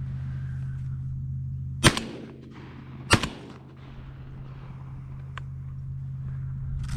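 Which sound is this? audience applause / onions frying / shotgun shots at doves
shotgun shots at doves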